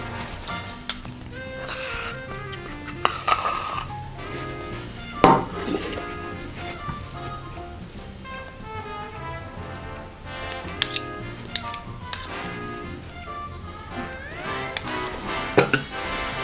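Dishes clinking in a bowl as warm liquids and honey are mixed for peinirli bread dough, with scattered chinks and taps of utensil against the bowl, fairly close, over a steady background of music.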